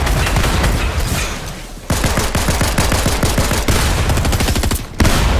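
Loud, close Fortnite gunfire crackles in rapid automatic bursts, with sharp repeated shots packed into dense volleys and a brief pause between bursts, no talk.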